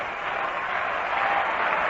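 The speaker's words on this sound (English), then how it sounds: "Rhythmic applause starting here at the Polo Grounds." A baseball crowd at the Polo Grounds during a Dodgers at Mets game claps in a dense, sustained wash that fills the stands, steady and moderately loud.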